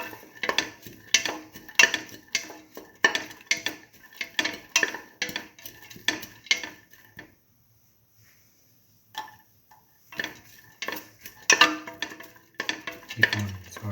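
Salt and garlic stirred in a pan for mung bean tomato rice: a spoon scrapes and clinks against the pan in quick, repeated strokes, stops for a brief pause, then resumes.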